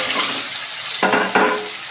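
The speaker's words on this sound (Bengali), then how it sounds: "ডিমগুলো একটু ভেজে তুলে নেব" Eggs fry in hot mustard oil in a wok, giving a loud continuous sizzle close by, with two sharper bursts of spitting as the food is stirred.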